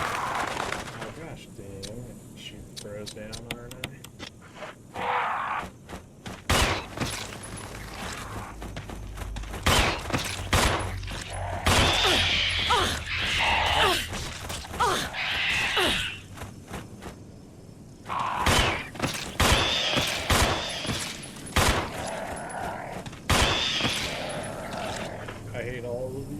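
Gunfire in the video game Resident Evil 1, sharp shots in quick bursts and scattered single cracks over game ambience, with someone talking throughout.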